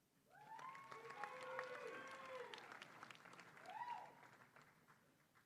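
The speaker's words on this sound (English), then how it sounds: "Let's give those students a round of applause." Audience applause at a university commencement ceremony for engineering graduates, sustained clapping from a large crowd swelling and easing over several seconds, with some voices and cheers mixed in.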